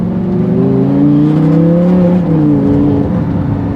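Lamborghini Gallardo engine heard from inside while driving, a loud steady drone that rises and falls in pitch as the revs change, close and dominant with no voices.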